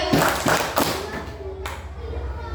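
A classroom of children claps three quick times together in a call-and-response clapping routine, the claps dull and crowded over a steady background of room noise and chatter.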